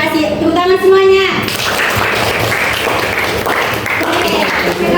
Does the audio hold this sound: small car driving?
no